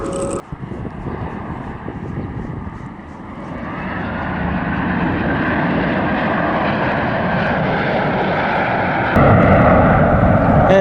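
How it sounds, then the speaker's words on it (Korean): A fixed-wing airplane climbs away low overhead after a failed landing attempt near a river, its engine roar steady and loud, swelling gradually and staying constant with no talk. "지금 저 비행기는 착륙 시도하다가 실패한 것 같거든요"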